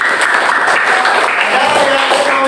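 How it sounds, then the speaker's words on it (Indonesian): Schoolchildren in a classroom clap together after praise from their teacher, a short loud burst of clapping with some voices mixed in. "Tepuk tangan anak-anak"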